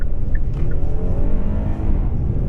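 A 2024 Kia Telluride SX Prestige X-Pro SUV pulls away hard from a standstill. The engine gives a loud, close, continuous roar whose pitch climbs steadily over a couple of seconds, with no voices.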